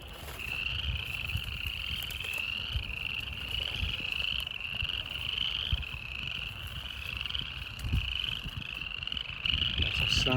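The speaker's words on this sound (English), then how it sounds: "Hear more frogs over in here." Frogs croaking near a large pond on a warm day, a dense rhythmic chorus of repeated calls at moderate distance, with faint low rumbles underneath.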